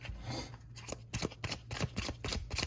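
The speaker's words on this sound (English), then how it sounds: "I'm going to shuffle." Tarot cards being shuffled by hand, a run of crisp riffling flutters and soft slaps in quick irregular bursts, close and fairly quiet, with no talking.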